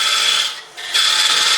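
Peeling cut on a wood lathe while turning a solid wood holiday tree decoration: a steady, loud hissing scrape of the tool in the spinning workpiece, briefly easing off mid-cut before resuming.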